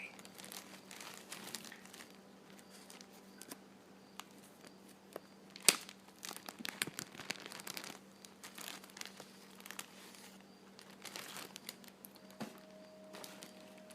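A plastic cracker bag crinkles and rustles close up in irregular bursts, with sharper crackles scattered over a quiet low hum.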